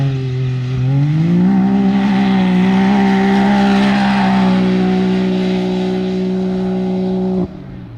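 A Can-Am X3 UTV in 4-wheel drive drones along a track, its engine note climbing in the first seconds and then holding a steady, loud cruising pitch before cutting off abruptly near the end.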